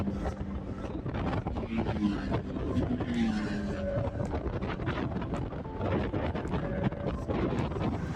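Motorbikes rush past on a cool road toward Satara, their engines swelling and fading under strong wind buffeting, heard from another slowly moving vehicle with no talk.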